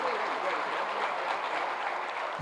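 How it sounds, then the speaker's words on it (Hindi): Continuous audience applause at an appointment-letter distribution ceremony, dense steady clapping throughout. "तालियां उत्साहवर्धन में लगातार होनी चाहिए।"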